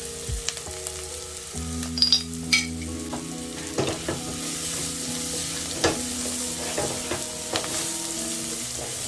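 Garlic and turmeric frying in a pan with translucent onions, a steady close sizzle with occasional stirring scrapes and clacks of a utensil.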